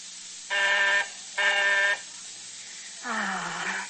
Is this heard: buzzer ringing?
yes